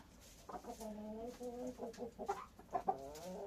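An older laying hen from a backyard flock clucks close by in a run of drawn-out, throaty calls, with a few sharper accented notes near the end.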